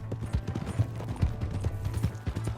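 Horse hooves clip-clop in steady, rapid beats in the video game Red Dead Redemption 2, fairly close and loud over a low background drone.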